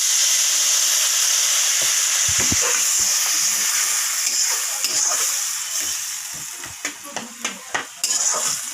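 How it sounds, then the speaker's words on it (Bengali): A curry of pointed gourd and egg sizzles in a pan as water is added, with loud hissing steam at first and then quieter bubbling broken by several sharp stirring clinks and scrapes near the end. "পাঁচ মিনিটের মতো ভালো করে কষিয়ে নিচ্ছি একটা জল দিয়ে দিচ্ছি"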